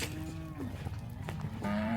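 Cattle from pen 4 being moved back into their corral, one low drawn-out moo rising near the end over a steady outdoor background.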